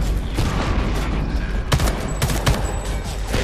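Dense, loud bursts of gunfire from the shooter game Homefront The Revolution crackle almost continuously, with a few sharper, heavier shots standing out in a chaotic firefight.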